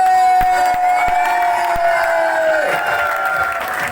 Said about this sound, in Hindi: जोरदार तालियां बजा दीजिए सभी लोग